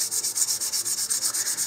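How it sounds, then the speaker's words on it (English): A plastic model rocket nose cone is sanded by hand with 320 grit sandpaper, a quick rhythmic back-and-forth hiss of short strokes, close and fairly quiet. "So I'm just going to sand the surface with some 320 grit sandpaper."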